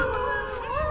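A howling creature in the video game Hollow Knight lets out a sustained, wavering tonal howl that stays steady and fairly loud for just under a second, with no talk over it.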